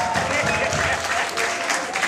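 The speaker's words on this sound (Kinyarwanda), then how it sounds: "Nimwongere amashyi abatahira bacu" Wedding guests applaud in loud, continuous crowd clapping that fills the space, with voices mixed into the noise.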